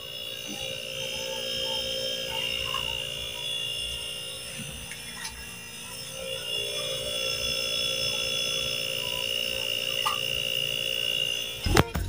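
An air conditioner motor runs with a steady, fairly quiet hum and a thin high whine, broken by a few faint clicks and ending in a short knock.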